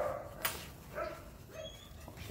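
A dog whines and yips in short, faint bursts from close by, spaced a second or so apart, in a quiet room while someone works on a hunting hideout.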